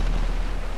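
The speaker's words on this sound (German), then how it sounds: "Jetzt hat mich der Panzer erschossen." Tank shell explosion in Battlefield Bad Company 2, a heavy, rumbling blast filling the whole short moment with dense low-end roar and no distinct attack, loud and close.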